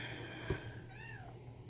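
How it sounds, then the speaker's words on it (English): A house cat gives a single soft meow partway through, faint and close, over a steady low background hum in a quiet crafting room. "And my cat is back."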